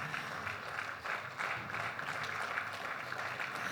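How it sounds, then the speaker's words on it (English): Applause at a cooperative awards ceremony honoring a chief, a soft, steady wash of many hands clapping, fairly distant and continuous with a slight dip before rising again. "A round of applause to him, please."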